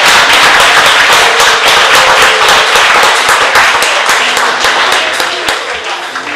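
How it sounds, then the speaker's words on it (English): Audience at a Mother's Day special show applauding all the mothers; dense, loud, sustained clapping from a crowd that tapers slightly toward the end. "Give a round of applause for all the mothers."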